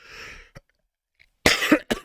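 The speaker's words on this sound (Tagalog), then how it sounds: "Grabe yung ubo ko" A man coughs: a short hoarse burst near the start, then a louder pair of harsh, close coughs toward the end, separated by near silence.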